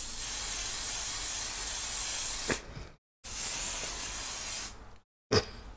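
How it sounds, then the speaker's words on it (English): Hairspray hisses from an aerosol can onto hair in two long continuous bursts, each about two to three seconds, separated by brief silences, close and loud. "Hairspray, Pump It Up is the best,"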